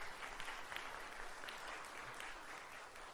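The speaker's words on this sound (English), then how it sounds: "just want to give them a round of applause" Congregation applause during a Sunday church service, a steady even wash of clapping from a crowd in a reverberant sanctuary, lasting the whole moment with little talk.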